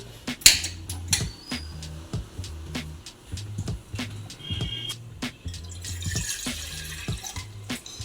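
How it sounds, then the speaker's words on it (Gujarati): Water poured into a small pressure cooker for rice, with a close splashing and trickling stream and some drips and metallic knocks against the vessel, steady throughout. "ભાતનું પાણી મૂકી દઈ"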